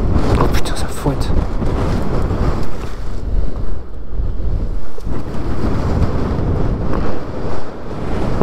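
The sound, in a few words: strong sandstorm wind whipping in Algeria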